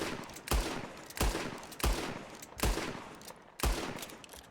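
Five evenly spaced gunshots ring out from a video game weapon being emptied, each a sharp loud crack with a short decaying tail, no talking.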